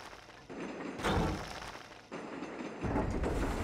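Small train wagons roll along rails in the video game Automation Empire, giving two bursts of rumbling clatter with soft thuds, fairly close and alone without talk.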